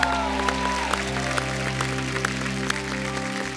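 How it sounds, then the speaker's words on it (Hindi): Applause from a studio audience on a comedy talk show greets a singer, a dense steady clatter under a bed of sustained music that runs throughout. "जोरदार तालियों से स्वागत कीजिए"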